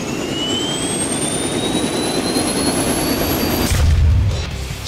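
A Westland Wyvern's engine roars at close range in the War Thunder game, a loud steady jet-like drone with a thin whine rising in pitch, ending in a deeper boom.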